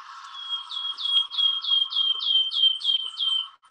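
A bird in Sussex delivers a piping song, a steady series of about ten clear, rising-and-falling piped notes, close and distinct over a faint steady background hum.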